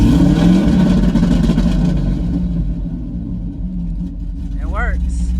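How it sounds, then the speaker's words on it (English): A C6 Corvette engine revs against a 3,000 RPM two-step limiter, loud and close, a rumbling bouncing roar that settles into a steadier idle, with a brief voice near the end. "So now I'm just gonna rev it and see."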